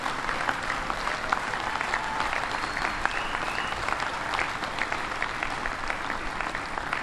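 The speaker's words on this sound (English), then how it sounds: "giving all the Hoosiers who are here a big, big round of applause" Steady audience applause for the Hoosiers at the christening of the submarine USS Indiana, a broad crowd clapping evenly and continuously, moderately distant.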